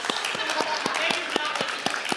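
Audience applause at a student awards ceremony, a light, thin patter of clapping with a few distinct sharper claps standing out at a steady pace, fairly quiet and brief.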